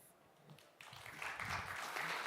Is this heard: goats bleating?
no